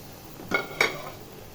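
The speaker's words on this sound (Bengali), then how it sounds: "এবার আমি মিষ্টি কুমড়ার পাতাগুলোকে ঢেলে দিব।" Two quick metallic clinks of a utensil against a cooking pot as pumpkin leaves go in, close and separated by a short gap, over a quiet background.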